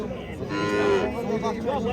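A cow lets out a drawn-out moo that wavers in pitch, nearby at a livestock market, with faint crowd murmur in the background.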